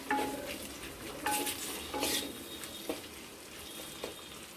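Onions fry in a clay pot with a soft sizzle underneath while a few distinct scraping stirs cut in at intervals, close and moderately quiet, with no voices.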